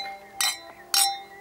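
Drinking glasses clink together in a toast at a home dinner table: two bright, ringing clinks about half a second apart, each fading with a short shimmering tail in a quiet room.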